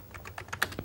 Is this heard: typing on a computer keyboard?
yes